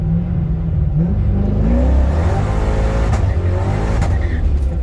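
A C5 Corvette engine revs hard and climbs in pitch to the rev limiter, loud and close, with rising harmonic sweeps and stuttering at the top.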